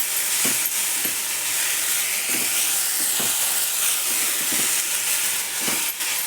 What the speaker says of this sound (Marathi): चांगला परतून घेते बघा.